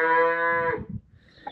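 A single cow lets out a long, loud, close moo that fades out, followed by faint rustling and a brief distant call.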